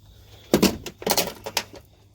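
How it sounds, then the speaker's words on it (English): Several sharp metallic clatters and knocks in quick succession, like hand tools tumbling onto a hard surface while working on an N14 Cummins engine injector, close by with no talking. "as I'm knocking all my tools over"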